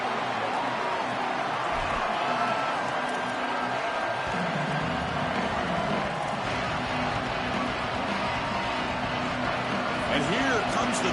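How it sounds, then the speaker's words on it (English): A college football stadium crowd at Oklahoma keeps up a constant dense roar during a first-round playoff game, steady and broad for the whole stretch, with an announcer talking over it. "And here comes the noise. This crowd is trying to inspire this defense to make a big red zone stop."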